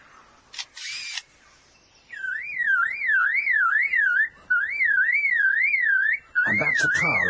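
A lyrebird mimics a car alarm with a loud, wavering electronic whoop that cycles repeatedly, cuts off briefly, and resumes. Short chattery calls come before and after it.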